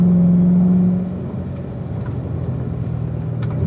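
A Corvette engine pulls hard in fourth gear during driving school training, a loud, close rumble with a steady rising drone that eases slightly after the first second and continues unbroken, no talk over it.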